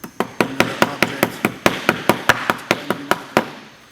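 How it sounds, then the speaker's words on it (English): A hammer taps stainless steel accelerator pedal brackets for a Golf or Jetta in a quick steady series of about twenty sharp close metallic knocks, with no talking. "Then I can use a hammer,"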